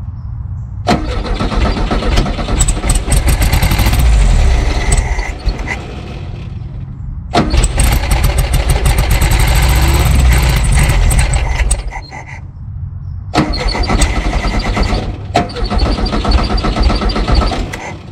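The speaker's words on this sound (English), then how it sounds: "Let's go ahead and turn it over. See if it pumps up the fuel. And see if we can get it to idle." A long-abandoned 1974 VW Super Beetle air-cooled engine cranks over in three loud bursts, catching and running roughly toward idle between pauses.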